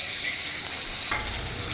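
Potatoes go into hot oil spiced with cinnamon and cardamom, setting off a loud, dense close-up sizzle that swells sharply partway through and carries on steadily to the end.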